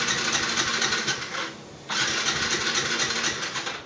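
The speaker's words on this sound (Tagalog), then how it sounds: "nagre-redondo lang yung kanyang motor, ayaw mandar." Push-button starter on a motorcycle cranking steadily without firing, a continuous whirring churn close to the microphone that drops off briefly then resumes.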